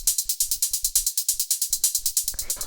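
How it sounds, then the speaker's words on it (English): Three crisp hi-hats in a driving hard techno pattern, bright sizzling ticks repeating rapidly and evenly, close and loud with a slightly busier flourish near the end, no voices. "After that, we have these hi-hats here,"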